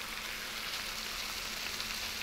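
Onion frying and starting to burn in a pan in the Cooking Simulator game, heard as a steady, even sizzle throughout with no talking.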